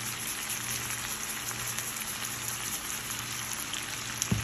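Vegetables seasoned with paprika and salt sizzle in a hot pan, a steady close crackling hiss, with a brief clatter near the end.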